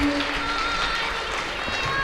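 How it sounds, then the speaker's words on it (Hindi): Applause breaks out for an AYUSH doctor at an administrators' conference and honours ceremony in Gwalior, a steady wash of many hands clapping from a crowd with some voices mixed in, filling the whole moment without pause. "जोरदार तालियां हमारे डॉक्टर साहब के लिए"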